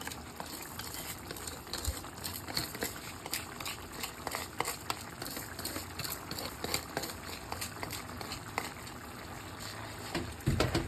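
Pigeon peas boil in a pot of water, a quiet continuous bubbling with irregular small pops and patters running throughout.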